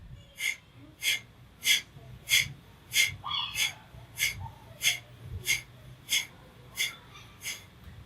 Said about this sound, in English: And let's try our first Kapalabhati breathing.